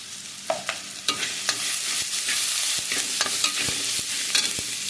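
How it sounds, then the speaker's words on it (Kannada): Ivy gourd stir-frying in a pan, a dense continuous sizzle broken by repeated sharp clicks and scrapes of the spatula, close-up and steady throughout with no voices. "ತೊಂಡೆಕಾಯಿ ಫ್ರೈ ರೆಡಿ ಆಯಿತು. ಫ್ರೈ ಥರ ಮಾಡಿದ್ದು ತೊಂಡೆಕಾಯಿ."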